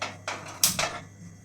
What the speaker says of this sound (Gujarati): ગેસ ચાલુ કરી દઈએ।